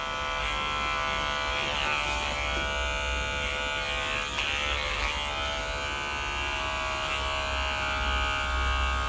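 Electric hair clipper fitted with a 3 mm guard cutting hair during a men's haircut, a steady close buzz that holds throughout with slight pulsing as it moves along the contour.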